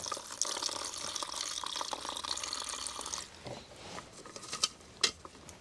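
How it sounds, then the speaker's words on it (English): Water runs and splashes into a container to soak food in a kitchen, a steady close pour for about three seconds that thins into scattered drips and small clinks. "Let's make sure I didn't put too much water in."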